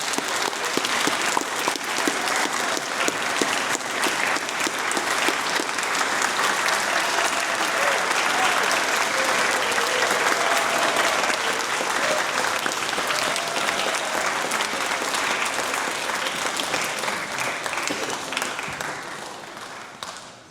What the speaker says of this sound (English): then we'll give them one more round of applause for the class of 2025